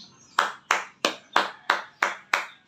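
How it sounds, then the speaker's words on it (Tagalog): Seven evenly spaced, crisp hand claps ring out one after another at a steady pace, fairly quiet and alone without any talk over them. "Palakpak naman dyan"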